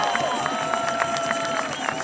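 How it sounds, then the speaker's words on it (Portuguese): A crowd at an outdoor political rally applauds and cheers, a steady roar of clapping with rhythmic bursts and shouts over a constant background hum from the sound system. "pedir uma salva de palmas"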